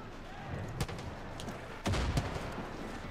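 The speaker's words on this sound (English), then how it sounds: "Grenade!" A grenade blast in the video game Far Cry 5 gives a sharp boom, followed by heavier thuds and gunfire over a constant low rumble of in-game action.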